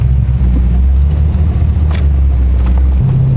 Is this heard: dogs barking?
no